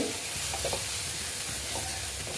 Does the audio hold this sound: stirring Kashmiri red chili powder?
yes